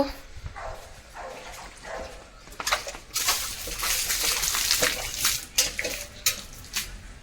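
Water sloshes and splashes intermittently as stone grinding pieces are rinsed in filled containers outdoors at home, with a dog barking now and then nearby.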